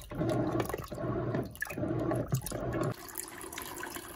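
A Brastemp Eggo 1 kg mini washing machine drains at the end of a cycle with a loud, close gushing water rush in pulsing bursts, then abruptly drops to a quieter trickling hum.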